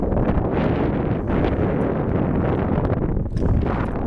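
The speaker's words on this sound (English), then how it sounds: "Hopefully this wind isn't going to be too much of an issue for you" Wind buffeting a microphone outdoors beside a 2014 John Deere 318D diesel skid steer loader, a loud continuous rumbling roar with gusty fluctuations filling the whole clip.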